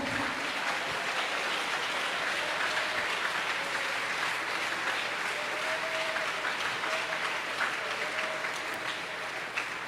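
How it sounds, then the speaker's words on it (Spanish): A church congregation claps together in sustained, even applause that keeps up a dense, continuous patter from start to finish, with faint voices mixed in underneath. "Si ese aplauso es para él"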